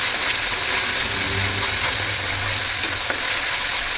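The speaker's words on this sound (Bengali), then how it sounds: "এটাকে ভালো করে কষিয়ে নেব যতক্ষণ না এই মশলাটা থেকে তেল ছেড়ে আসছে" Spice paste made with Kashmiri chilli fries steadily in oil, a close, continuous sizzle with faint scraping of stirring and a couple of small clicks near the end.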